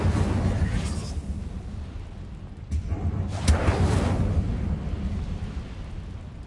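The Incendio fire spell is cast in a video game, producing a low rumbling whoosh with two brief flaring bursts over a steady roaring background.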